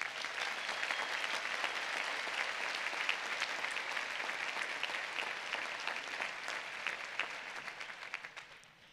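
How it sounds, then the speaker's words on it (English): Sustained applause from a large crowd at a university commencement ceremony, a dense even wash of clapping at steady volume that slowly tapers off at the end. "I think you should give them a great round of applause"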